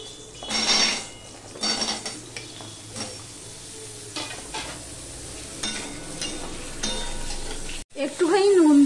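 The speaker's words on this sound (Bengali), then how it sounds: "এই তেলেই আমি এখানে আলুগুলো ভেজে নেব" Potatoes fry in a little oil with a soft continuous sizzle, broken by several spatula scrapes and clinks against the pan, close by, ending in a sharper clatter.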